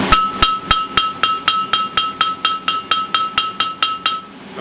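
Hammer striking hot steel on a hot cut hardy tool at a forge, a steady run of about fifteen sharp ringing metallic blows at an even brisk pace, close and clear.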